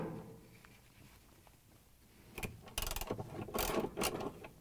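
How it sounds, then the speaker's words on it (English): Half-inch socket wrench ratchets on the bolts holding a washer motor, a faint clicking burst of pawl ticks in short runs near the end after a quiet start. "Next, I'm going to remove these two 1/2 inch bolts that holds the motor. I'm going to use the 1/2 inch socket wrench."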